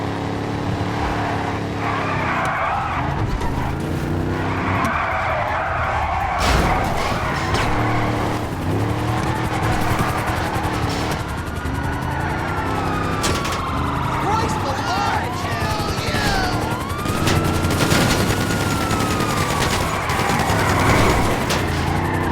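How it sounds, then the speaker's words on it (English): In the video game GTA 5, a slam van truck's engine gives a loud, continuous Harley-like rumble as it drifts, with tire squeals and skidding over the top. "this truck does sound like a damn Harley Davidson. If you don't believe me, listen to this thing."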